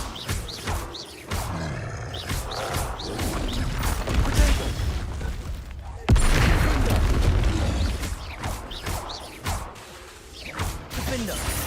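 Explosive Confringo and Bombarda spells from Hogwarts Legacy go off as a series of heavy booms, whooshes and crashing impacts, with one sharp blast midway, all loud and close amid continuous game noise.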